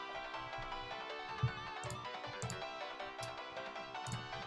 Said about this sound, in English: Is this the phone call I'm not supposed to answer?